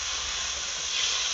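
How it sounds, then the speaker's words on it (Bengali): Water hits a hot pan of cabbage and fried prawns, giving a brief, loud burst of steamy hiss close by that swells slightly toward the end, with no voices. "এবার আমি জল দিয়ে দেব।"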